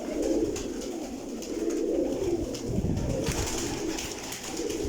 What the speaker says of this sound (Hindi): सब परवाजी कबूतर।